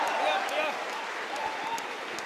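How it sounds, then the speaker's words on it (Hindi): Audience applause at a patriotic Hindi poetry recital: a steady wash of clapping from a crowd, fairly loud and sustained throughout, with some voices mixed in. "आपकी तालियों ने मुझे खोल दिया"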